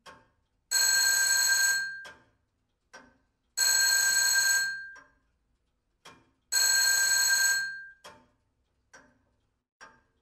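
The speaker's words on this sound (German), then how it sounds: "Das Telefon. Soll ich hingehen?" Old telephone bell ringing three times in long bursts, each followed by faint ticking clicks in a quiet room, with no talking between rings.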